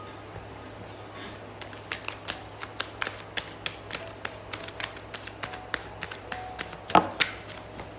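Tarot cards are shuffled close by in a quiet room, a rapid rhythmic run of crisp flicks and snaps over faint background hum, with one sharper slap near the end.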